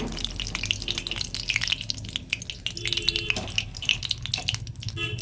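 Bakful flower pakoras deep frying in oil in a kadai, a close, steady crackling sizzle with bubbling and occasional stirring clinks.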